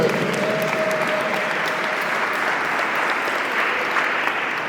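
A church congregation at an Easter vigil breaks into sustained applause, a dense, even patter of many hands filling the space steadily for several seconds.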